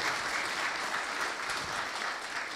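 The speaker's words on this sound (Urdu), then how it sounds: "یار تالیاں یار عمر صاحب کے لیے" A panel discussion audience applauds, a continuous, even patter of clapping heard from some distance, fairly faint and without speech.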